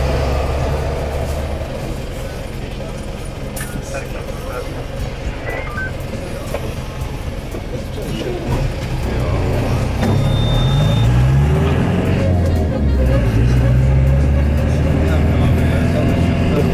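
Inside a shaky moving bus along a harbor road in Kusadasi, a low engine rumble and rattling that grows louder midway, with a person talking over it.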